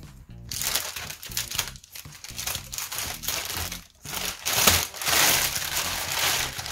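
Crinkling of a branded plastic packaging bag from a TomDom curtain delivery, handled close up in continuous crackling, rustling bursts with brief pauses.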